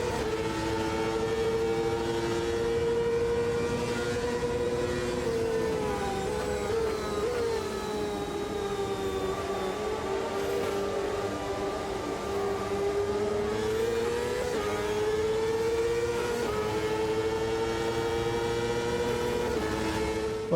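CART 2000 race car engines in Automobilista 2 at Jacarepaguá, a loud, continuous high-revving drone that rises and falls with gear changes for about twenty seconds, with no talk over it.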